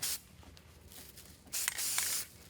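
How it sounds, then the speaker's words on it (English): A spray can hisses in short bursts over the ruffled mesh layers of a bee-themed wreath, with one brief spray at the start and a longer, louder one near the end against quiet room tone. "So I'm just going to spray the bottom layer and the top layer as I go."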